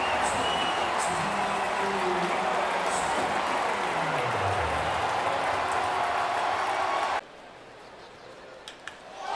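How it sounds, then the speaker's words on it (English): A ballpark crowd at an Astros baseball game roars loudly and steadily after a home run in the bottom of the seventh inning, with an announcer talking over it before the roar drops off abruptly. "Sending this crowd into a frenzy here in the bottom of the 7th inning."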